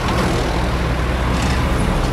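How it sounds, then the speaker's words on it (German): Road traffic with cars passing at a street corner: a steady, loud broadband roar of engines and tires that fills the whole stretch without pause. "wir müssen ein bisschen Verkehr warten"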